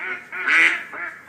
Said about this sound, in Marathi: हा आहे बदक क्वॅक क्वॅक